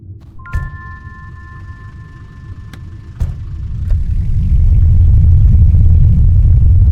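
A broken car engine in a video game rumbles low and rough, with a few sharp clanks and tones early on, then swells into a louder steady drone for the final seconds.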